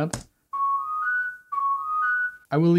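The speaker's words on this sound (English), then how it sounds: "There's a whistle in there. I didn't expect that." Whistle sound within an EDM mix, two sustained whistled notes each rising slightly in pitch, isolated between brief bursts of other sounds.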